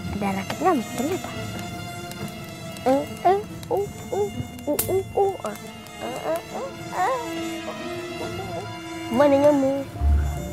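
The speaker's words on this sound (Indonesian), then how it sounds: "di sini banyak sekali nyamuk" Mosquitoes buzzing around a cold outdoor sleeping spot at night, a thin insect whine running under music and other sound effects, with voices speaking at times.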